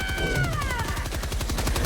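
Rapid automatic gunfire from a video game shooter, Helldivers 2, fired in a fast continuous stream of evenly spaced shots that runs loud throughout, with a descending tonal effect early on.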